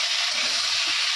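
Whole spices sizzling in hot oil in a pan during home Bengali cooking, a steady close hiss without pause.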